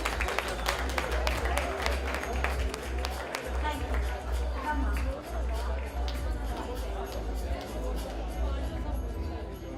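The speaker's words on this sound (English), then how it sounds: "Huge round of applause for all you guys." An audience at a charity fundraiser bursts into sustained applause and cheering, a dense crowd of clapping with chatter mixed in, steady and fairly loud throughout.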